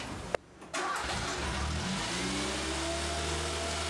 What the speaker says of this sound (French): Vous démarrez la voiture, au point mort, vous laissez tourner le moteur